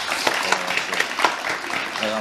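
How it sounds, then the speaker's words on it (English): A scattered burst of audience clapping, moderately loud and close, runs throughout with a voice speaking over it. "You better clap for that."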